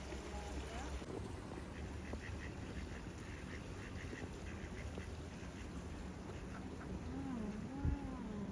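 Ducks on the water near a waterfall outing, with soft repeated quacks and calls over steady wind and water noise, fairly faint and distant.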